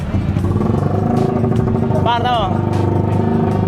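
A motorcycle engine running at a motor show in Norzagaray, Bulacan, a loud close rumble with a rising rev midway, while people talk nearby over it.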